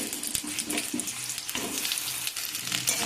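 Cut potatoes frying in hot oil with dry red chilli and panch phoron, a loud, steady close sizzle broken by repeated scraping stirs.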